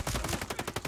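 A short, fast burst of gunfire from the shooter Ghost Recon Breakpoint, roughly eight sharp shots in under a second, loud and close.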